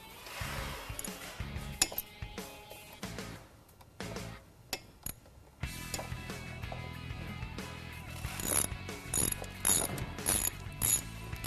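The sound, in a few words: ratchet tightening motorcycle brake caliper bolts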